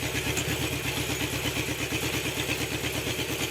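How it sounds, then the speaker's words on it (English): An engine runs close by with a rapid, even pulsing beat and mechanical clatter, held at raised revs while being tuned to balance its cylinders. "We'll rev it again"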